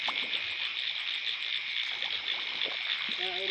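Frogs croak in a rice field at night, repeated throaty calls sounding over a dense, continuous chorus of insects, with a brief tonal call near the end.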